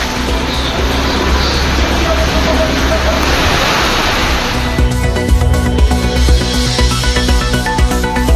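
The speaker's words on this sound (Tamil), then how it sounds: "ராமநாதபுரத்திலும் மழையால் வெப்பம் தணிந்து குளிர்ச்சியான சூழல்." Rain pours steadily in Ramanathapuram, a dense continuous wash of falling water that turns rougher and more clattering partway through, with faint voices under the downpour.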